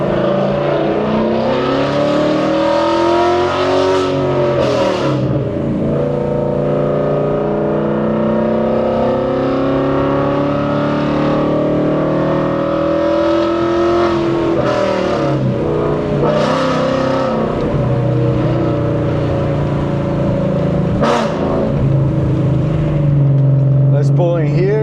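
A loud Ford Mustang engine revs and pulls steadily while driving, a continuous throaty drone with rising and falling revs under ongoing talk.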